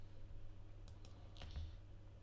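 A few soft keystrokes click on a computer keyboard against a steady low hum, faint and sparse over about two seconds.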